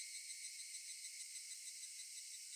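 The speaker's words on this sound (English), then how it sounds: "Only the cry of the cicadas remained, annoyingly loud." Cicadas shrill in a steady, high, unbroken drone in the visual novel game Higurashi: When They Cry, a faint continuous insect buzz with no other sounds or voices.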